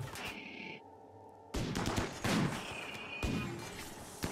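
Gunfire in the colony-management game Rimworld: a sudden burst of clustered shots followed by repeated volleys and crackling reports, dense and fairly close, with no talking.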